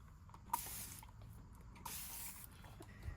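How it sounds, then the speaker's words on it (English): A Spellbinders Mighty Mister spray bottle gives two soft, quick hissing spritzes onto cardstock, close and quiet, each preceded by a faint click of the trigger. "I'm going to use the Spellbinders Mighty Mister. Remember this one, to do a light spritz."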